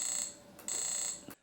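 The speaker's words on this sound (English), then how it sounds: "this is just farting out some beeps while it's drawing the ground." A homemade ATtiny-based game console gives two long, shrill electronic beeps while drawing the ground on screen, each tone held steadily with a brief gap between and a short chirp at the end.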